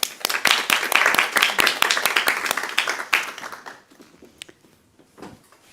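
An audience applauds to welcome two speakers to the stage at a conference event, a burst of many hands clapping close and lively that thins out into scattered claps and fades within a few seconds.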